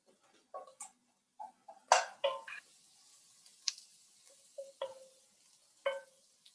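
Stirring food in a hot pan on medium heat in a Tamil home kitchen: sparse, light clicks and scrapes of a utensil against the pan, with soft gaps of quiet between the strokes.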